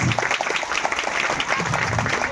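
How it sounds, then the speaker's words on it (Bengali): An audience claps at a community gathering in a moderate, fairly even burst of applause, with some crowd murmur and possible voices underneath. "আজকে আমি বলতে চাবো আপনাদের সবাই জন্য একটা জোরে করে হাততালি আপনারা দেন"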